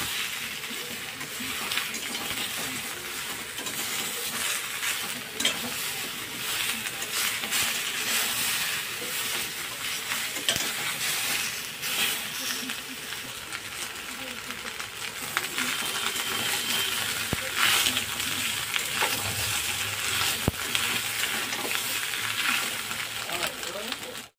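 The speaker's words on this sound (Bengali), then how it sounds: "আদা আর জিরে বাটাটা, গোলমরিচ গুঁড়োটা দিয়ে ভালো করে কষিয়ে নেব।" Ginger-cumin paste and ground black pepper being sautéed in a pan for a katla fish curry, a steady close sizzle with scraping and stirring clinks throughout, under a speaking voice.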